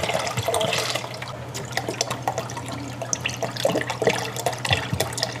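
Soy milk pours steadily into a pot with a splashing, gurgling flow, close by, accompanied by small clinks.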